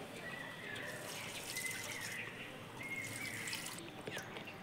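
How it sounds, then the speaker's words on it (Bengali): Rice and dal washing water saved in a bucket being poured onto the roots of garden plants, a steady faint trickle and dribble with occasional drips, continuous and soft throughout. "সেই জলগুলো একটু গাছের গোড়ায় দিই"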